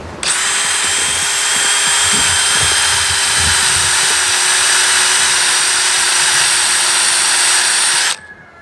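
A power drill fitted with a dull spade bit bores a tap hole into a maple tree, a loud continuous whine lasting about eight seconds before stopping abruptly.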